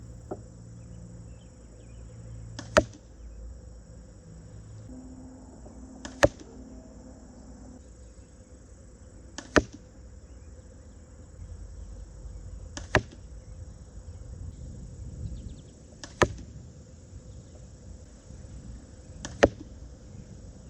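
Six sharp arrow impacts from a Hoyt RX7 Ultra compound bow, shot from 20 yards, thud into a target at steady intervals of about three seconds, each a brief loud crack over a quiet outdoor background.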